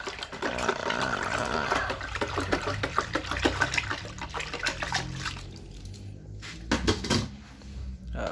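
Fried chicken seasoning mixture for Dallas Fried Chicken is stirred in a bucket, a steady wet sloshing and swirling with rhythmic splashy strokes, close and fairly loud, easing into quieter sloshes near the end.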